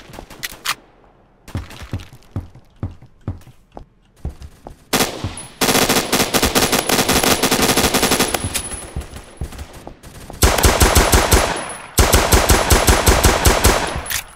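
Gunfire in the AdventureQuest Worlds video game: first single shots spaced about a second apart, then long loud bursts of rapid automatic fire, close and harsh, broken by short pauses.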